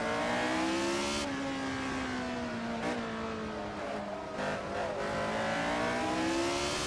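Pack of 1975 Formula 1 race cars at the Montjuïc circuit start, engines revving hard and climbing in pitch together as they accelerate toward the first turn, a loud continuous multi-engine howl.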